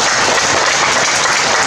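Sustained applause from an audience at the opening ceremony of a classical arts education exhibition in Yunlin, Taiwan, a dense, steady wash of many hands clapping at once with no talk over it.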